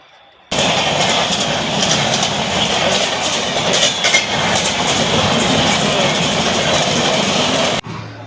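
A suburban commuter train rolls along, heard from inside a nearly empty carriage. A loud, steady rumble carries rhythmic clickety-clack wheel beats and ends abruptly near the close.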